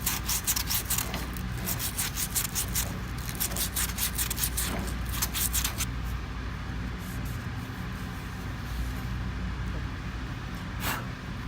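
A rag with WD-40 rubs over the surface of a pump oil seal, making a close, steady scrubbing sound with rapid strokes, then a quieter hiss.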